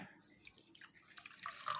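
Water is poured into freshly blended green gooseberry (amla) juice, giving soft, faint dripping and trickling that builds into a brighter splashing stream near the end, close by with no talk.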